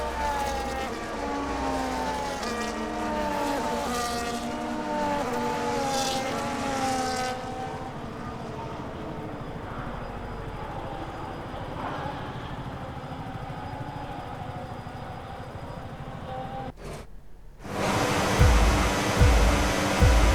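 F1 cars driving on track in the video game F1 25 at the Australian Grand Prix, a steady whining engine drone with shifting pitches that fades, then a short gap and a louder, closer roar, with no talking.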